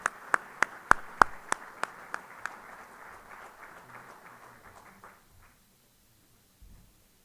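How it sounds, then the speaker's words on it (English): A few people in a conference audience clap for a panel, sharp, separate handclaps in a quick ragged run that quickly thins out and stops into near silence. "Would you give them a round of applause?"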